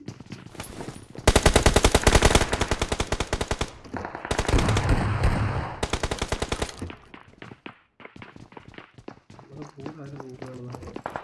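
Bursts of rapid machine-gun fire from the BGMI video game rattle in loud sustained volleys, separated by quieter stretches with scattered single shots, footstep-like clicks and people talking throughout.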